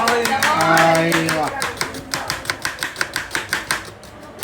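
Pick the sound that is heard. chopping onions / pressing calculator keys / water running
chopping onions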